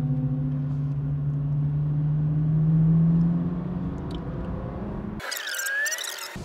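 Cars on a track-day circuit at Bilster Berg pass close by, a loud engine drone rising in pitch and then fading, followed by an abrupt burst of whining, higher-pitched mechanical sound at the end.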